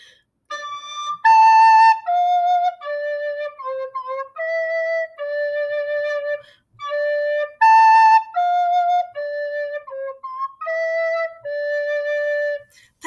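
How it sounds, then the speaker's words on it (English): A simple children's song played on a recorder, a clear run of sustained, breathy notes moving through short phrases with brief gaps between them, close and steady with no voices. "Here's my song. If I play it on the recorder,"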